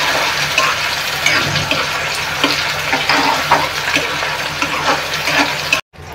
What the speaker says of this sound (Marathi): कांदा टोमॅटो तेलात परतून घेऊया आधी कांदा टोमॅटो